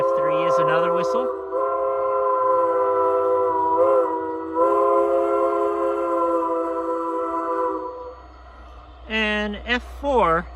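A second steam whistle on a Berlyn K-37 model steam locomotive blows a long, loud chime tone for most of the span. Low rumble sits beneath it, and a few short toots follow near the end.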